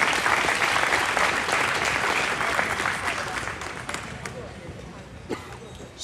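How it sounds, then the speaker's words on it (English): Audience applause at the Arizona National livestock show's 2024 grand champion market drive, a broad, steady clapping from the crowd that gradually fades, with a few sharper claps near the end. "give these young people in the Arizona National Committee a round of applause"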